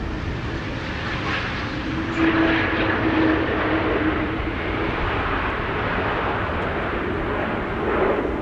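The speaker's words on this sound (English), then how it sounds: "Here we have United Airlines Flight 968 arriving from San Francisco." United Airlines airliner arriving at windy Amsterdam Schiphol from San Francisco roars loudly and close, a dense continuous engine rumble with a faint whine that swells slightly and holds steady throughout.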